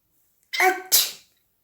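A pet cockatiel lets out one tiny, close sneeze, a quick two-part squeaky puff against an otherwise silent background.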